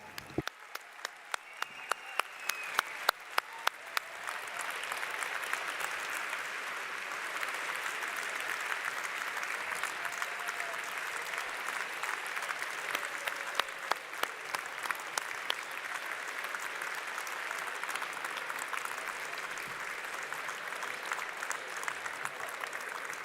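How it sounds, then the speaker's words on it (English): A large commencement audience of graduates, professors and academic directors applauds at a May 2025 PhD and master's ceremony. A few sharp separate claps open into long, dense, sustained clapping that fills the hall. "give you a huge round of applause"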